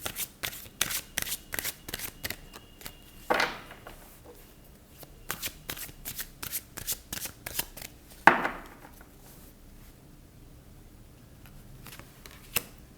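Tarot cards being shuffled, a rapid series of crisp riffling flicks in bursts, with two sharp louder bridge riffles partway through, close and clear with no talking.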